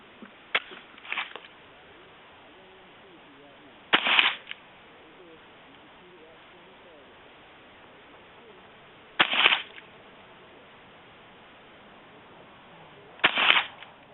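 A Savage Arms 64F .22 rifle fires three sharp, cracking shots several seconds apart, with fainter clicks and light handling sounds early on and a quiet background between shots.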